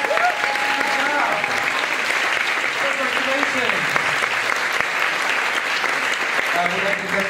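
A school audience applauds at an elementary school Christmas concert, loud continuous clapping filling the room with scattered voices and a few faint tones mixed in.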